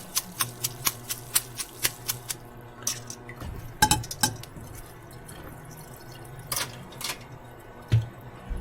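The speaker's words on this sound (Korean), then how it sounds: "그 다음에 물기를 털어줘야 되겠죠" Rinsed noodles for kimchi noodle soup are shaken to drain the water, giving quick rhythmic light taps and drips, followed by a few scattered clinks and splashes, close and moderately quiet.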